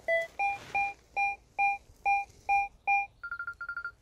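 A Berkut-5 metal detector sweeping a wooded patch of ground gives a steady signal, a run of eight evenly spaced loud tonal beeps followed by a quick burst of shorter, higher beeps, close and clear without talk.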